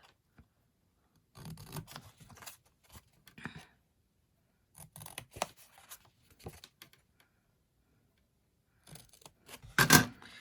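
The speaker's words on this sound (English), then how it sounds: "I'm going to cut each of the tabs" Scissors snipping through paper card stock to cut box tabs, several short bursts of cutting separated by silent pauses, close and crisp, with a sharper final snip.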